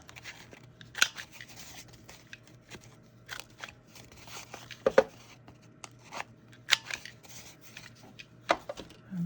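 Scissors trim the corners of an old book's pages in a string of crisp, separate snips, close and quiet, with soft handling noises between the cuts.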